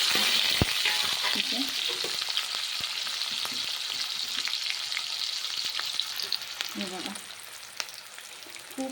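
Onion and green chili frying for fenugreek leaf bhaji made without peanuts or garlic, a steady close sizzle with occasional stirring clinks and scrapes, no talk.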